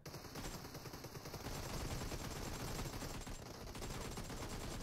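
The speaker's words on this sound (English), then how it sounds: "Oh, that was an accidental hip fire." Accidental hip fire in a team deathmatch shooter game, a dense rapid burst of automatic gunfire crackling nonstop and fairly loud, with no talk over it.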